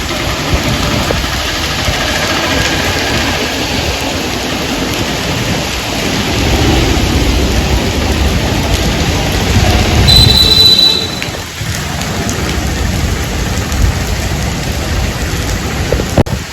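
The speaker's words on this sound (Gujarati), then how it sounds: "અહીંયા અત્યારે વરસાદ ચાલુ થઈ ગયો જુનાગઢમાં" Heavy rain pours in a dense, continuous roar, loud and unbroken, with a low rumble underneath, in Junagadh.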